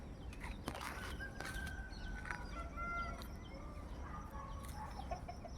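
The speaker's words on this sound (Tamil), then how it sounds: "கோழி பாருங்கள், நாட்டுக்கோழி பாருங்கள் நிறைய வச்சுருக்காங்க." Free-ranging country chickens cluck on a banana plantation farm, with repeated clucks and calls at a moderate distance over a steady outdoor background.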